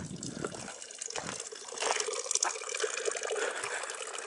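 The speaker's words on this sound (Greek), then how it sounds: "Βλέπουμε ότι φτιάξανε και τη βρύση." Water gushes steadily from a repaired mountain tap at a kiosk around 1700 m altitude on the Prionia trail of Mount Olympus, a close, continuous splashing flow that swells in the second half.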